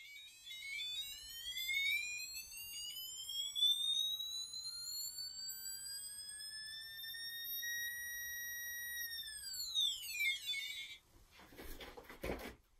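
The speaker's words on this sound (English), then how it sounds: "the frequency of sound produced by the speaker is directly proportional to the distance" An Arduino-driven speaker's electronic tone with rich harmonics rises steadily in pitch, holds high for several seconds, then sweeps down and cuts out, followed by a brief clatter.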